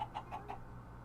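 Chickens clucking in the Minecraft modpack FTB SkyFactory 3, four quick, faint, evenly spaced clucks over a low background hum.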